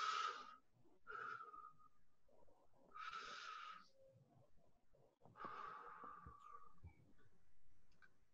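Paced, controlled breathing timed to a timer: four long, close breaths in an even rhythm, each lasting about a second, with quieter gaps between them and no talk.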